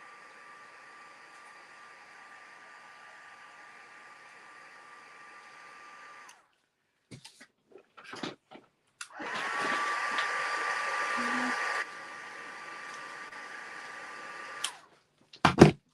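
A hair dryer blows air to dry a scrapbook page in a craft session, a steady loud rush held for several seconds, preceded by quiet room tone and brief handling knocks, then dropping to a lower setting before cutting off.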